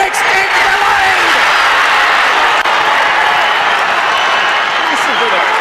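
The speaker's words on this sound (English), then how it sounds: "Listen to the crowd." A football grand final crowd in Bendigo roars and cheers after a goal, a loud continuous wall of cheering and applause throughout.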